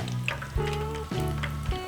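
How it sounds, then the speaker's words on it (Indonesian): Cheese risoles deep-frying in hot oil over a high flame, a close, dense sizzle with a few bubbling surges as pieces are moved, heard alone. "Jadi gorengnya kalau dengan api yang besar, ini nggak perlu lama-lama"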